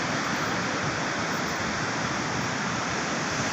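A waterfall on a trip to Tawang roars as a loud, constant broadband rush of falling water, steady throughout with no voices heard.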